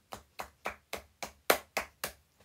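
Deliberate, evenly spaced hand claps, eight sharp slaps in a slow steady rhythm, close and clear with silence between them and one clap noticeably louder than the rest.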